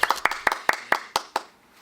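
Clapping for Ophélie at the Made in France fair: about eight sharp, close claps in a steady quick rhythm that slow slightly and fade out.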